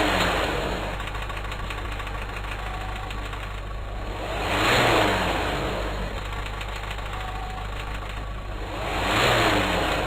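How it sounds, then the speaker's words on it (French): A diesel car engine revved at full throttle during an exhaust opacity test, a loud steady roar that swells twice into longer revving peaks before easing back, close and continuous. "Le contrôle de l'opacité nécessite plusieurs cycles d'accélération pied à fond."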